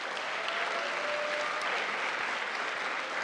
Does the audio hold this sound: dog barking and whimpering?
no